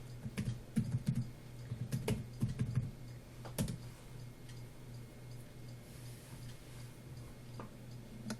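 A username and password are typed on a computer keyboard in bursts of quick, close key clicks during the first few seconds, then a few scattered taps over a quiet room hum.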